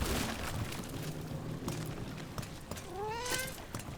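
A cat in Dragon Age: The Veilguard gives a few rising, whiny meows near the end, heard over a steady game ambience with soft background rumble and scattered clicks.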